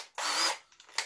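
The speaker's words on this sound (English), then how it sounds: "we're going to drill a 30 mil hole for this" A short, close burst of a power drill boring a 30 mm hole in thin 0.8 mm material, whirring, cutting off and then giving one more quick spin.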